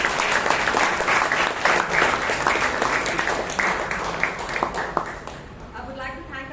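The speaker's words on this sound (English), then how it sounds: "Let's give him a huge round of applause." A meeting audience at a Bangalore Toastmasters club claps in a steady, dense round of applause that fills the room, then fades near the end as a voice begins speaking.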